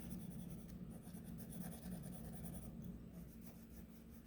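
Pencil shading on paper during a still-life drawing session, a steady soft scratchy rasp of graphite rubbing back and forth, close and continuous with no talking.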